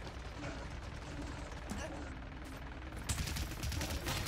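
Rapid gunfire from the video game Paladins, a dense continuous crackle of shots that swells louder near the end, mixed with the chatter of players talking over it.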